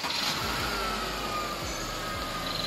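A car engine turns over and settles into a smooth, quiet idle, with a steady low hum and faint mechanical ticking up close, no voices.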